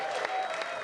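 A live audience gives a short, steady round of applause, a brief wash of clapping with no voices over it.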